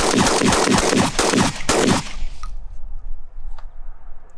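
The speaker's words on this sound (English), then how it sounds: "Shotgun pushing me around a bit, it's pretty light." Close, loud shotgun blasts in a rapid string of about seven shots over two seconds, the weapon carrying a LaserSpeed LS-M3 IR illuminator, followed by outdoor quiet with faint distant pops.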